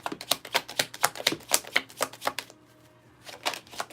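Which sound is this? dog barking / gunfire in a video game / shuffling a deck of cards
shuffling a deck of cards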